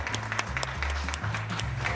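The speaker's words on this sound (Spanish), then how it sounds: "Un aplauso a todas las enfermeras y gente que se encarga, y médicos y demás." Applause for nurses and doctors breaks out in a dense, continuous burst of clapping from a small group, fairly close, with a faint voice underneath.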